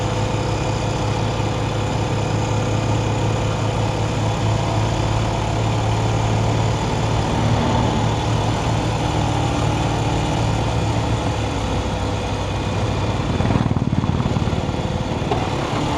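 An old Bajaj Pulsar motorcycle with a slack chain rides along a road in Nepal. Its engine holds a steady, unbroken drone, close and fairly loud, with no voices.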